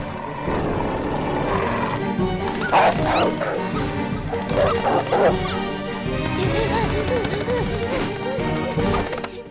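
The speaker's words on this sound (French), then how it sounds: "C'est ton chien qu'on entend aboyer comme ça?" An animated dog named Rex barks in short bursts over a backdrop of busy background sound, the barks rising and falling in clustered yelps.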